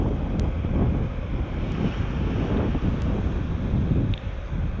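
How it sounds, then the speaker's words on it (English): Strong wind buffets the microphone over open lake water near Ludington, a steady loud low rumble with gusts and surf-like wash throughout, no voices. "We're getting strong wind warnings here."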